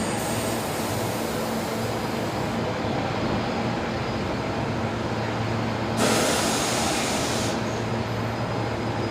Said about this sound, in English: Awesome departure there from the Fokker 70